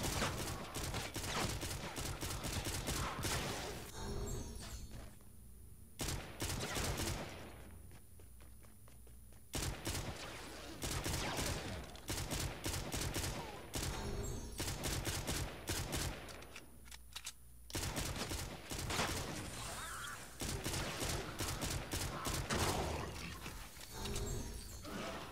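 Rapid bursts of semi-automatic Ranger rifle shots in the Fortnite Save the World video game, sharp close cracks in quick clusters separated by short pauses.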